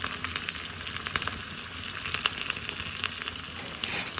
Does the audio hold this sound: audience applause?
no